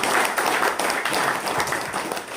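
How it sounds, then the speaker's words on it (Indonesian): Loud, dense applause from a seated audience at a business presentation, many hands clapping at once in a steady, close wash with no gaps. "berikan tepuk tangan yang sangat meriah untuk Pak Hari Susilo."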